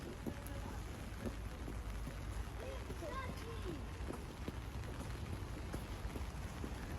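Steady rain patters down with a constant hiss during the cold rainy season, with distant voices murmuring faintly beneath it.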